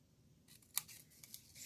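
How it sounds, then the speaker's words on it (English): Paper snips snip through scored cardstock for a Halloween paper-craft project, a few quiet, crisp cuts with one sharper snip standing out, close and alone without talk. "Get our paper snips,"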